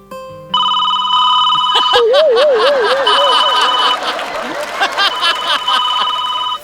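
Telephone ringtone on a comedy stage, a repeating electronic ring that starts after a second and continues almost to the end, with a warbling tone and audience chuckles mixed in.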